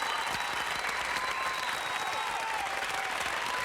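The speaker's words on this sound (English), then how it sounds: "I'm going to keep the applause until he connects to audio." Steady, continuous applause from an audience greeting a guest on a sports talk show, a dense wash of clapping that holds at an even level throughout with no voices over it.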